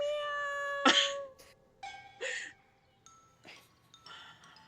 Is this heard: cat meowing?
yes